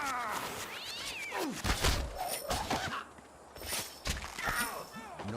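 A cartoon cat in the Puss in Boots video game meows and yowls several times over busy game sound effects, with some in-game voice mixed in.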